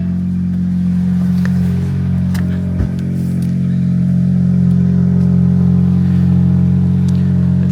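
Mercedes-AMG CLA35 with a 302-horsepower 2-liter turbo four, a mild hybrid, settling into a steady, loud high idle just after a cold start, a constant low engine drone with one brief knock partway through.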